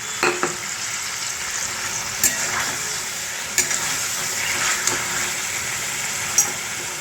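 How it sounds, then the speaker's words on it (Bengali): Roasted cumin powder fries with ginger garlic paste in a pan for a restaurant-style chicken makhmali, giving a steady close sizzle broken by occasional clicks and scrapes of stirring. "প্রথমে দিলাম রোস্টেড জিরে গুঁড়ো"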